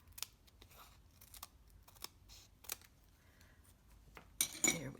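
Scissors snip through paper in a handful of quick, crisp cuts, irregularly spaced and close, ending with louder rustling handling noise.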